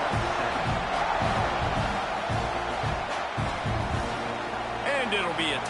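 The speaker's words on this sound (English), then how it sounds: "this crowd is buzzing after that last score." Stadium crowd in the College Football 26 video game, a dense, steady roar of many voices buzzing after a score, with a commentator talking over it.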